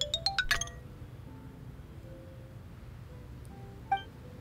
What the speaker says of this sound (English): Xylophone.